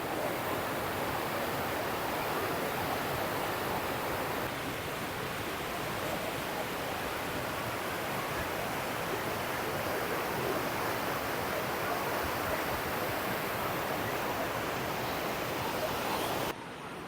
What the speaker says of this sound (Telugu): ఎంత ఫోర్స్ వస్తుందో వాటర్.